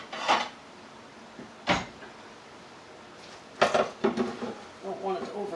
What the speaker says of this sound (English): Pop the lid on there. Give it a shake.